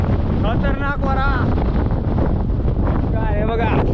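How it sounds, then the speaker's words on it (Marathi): Strong gusts at Takamak Fort batter the microphone with a continuous loud roar, while a person speaks through the rumbling wind. "खतरनाक वारा"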